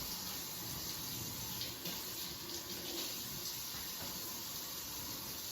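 Tap water runs steadily into a sink while six pieces of meat are rinsed, a faint continuous hissing splash with no speech.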